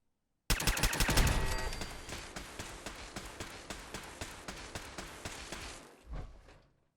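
Automated defense turret in Fallout 4 opening fire, a sharp loud burst followed by a steady rapid string of evenly spaced shots that slowly fade, ending with a final thump.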